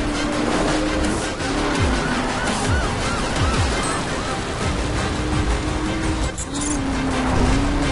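Cars driving and drifting in the racing video game The Crew, a steady dense engine roar with a few tire squeals and sliding pitch sweeps, loud and continuous throughout.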